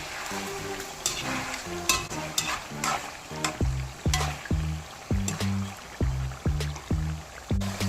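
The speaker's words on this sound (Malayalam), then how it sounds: "അപ്പം നമ്മുടെ ഫസ്റ്റ് സ്റ്റെപ്പ് വറുത്ത് കോരാം" Chicken half-frying in hot oil in a pan for a chicken roast, crackling and sizzling steadily while a spatula stirs it in repeated scraping strokes, close and fairly loud, with no talk.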